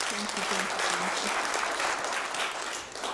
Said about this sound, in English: I believe we can give a very strong clap.